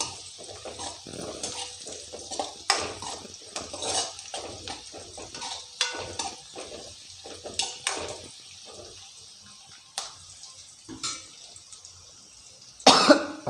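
A spoon stirs turmeric into cabbage curry in a pan, making irregular scrapes and metallic clinks that come in short uneven bursts, with a louder clatter near the end.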